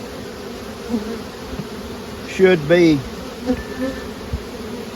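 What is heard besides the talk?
nurse bees buzzing on frames added to swarm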